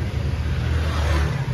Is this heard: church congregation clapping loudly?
no